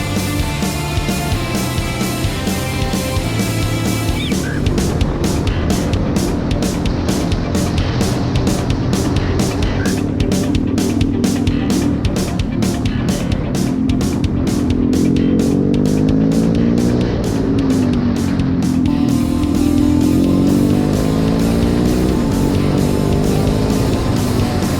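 An adventure motorcycle engine opening up and accelerating on the road, loud and close, with rising revs and rhythmic gear-change pulses over a sustained roar, no talking.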